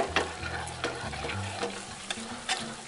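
Cream poured into a hot pan of pork tenderloin juices for a mild blue-cheese sauce, hissing and sizzling steadily as a utensil scrapes and stirs in repeated strokes nearby.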